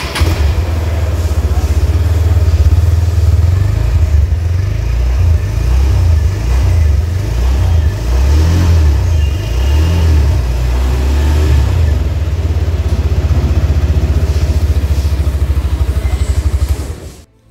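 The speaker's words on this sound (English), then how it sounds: "Let's listen to the exhaust note now." A BS6 Hero Xtreme 160R motorcycle engine rumbles with a deep, bassy exhaust note, blipping and revving repeatedly before idling, close and loud throughout.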